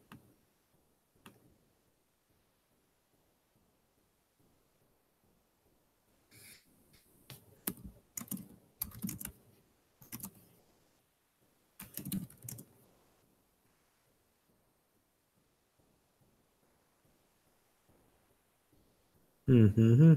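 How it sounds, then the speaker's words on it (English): Intermittent typing on a computer keyboard, quiet bursts of clicking keys separated by silence, with a louder noise at the very end. "Sorry about that if you hear my typing."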